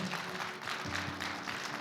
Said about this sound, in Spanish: Ese aplauso sea para Cristo